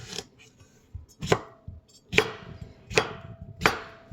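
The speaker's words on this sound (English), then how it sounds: "First thing I need to do is just give the cucumbers a rough chop." A knife rough-chops washed cucumbers for dill relish on a cutting board, with five sharp, evenly spaced chops up close, each a crisp thwack with no talk.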